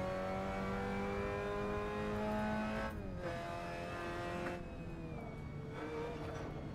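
A racing game car engine howling around the Nurburgring, revving high and steady, then dropping and climbing again through gear changes, a sustained whining tone with no voices.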